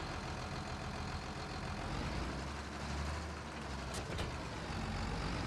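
Tractor in Farming Simulator 25 pushing a roller, a steady low engine drone running continuously, with a brief sharp hiss or click near the end.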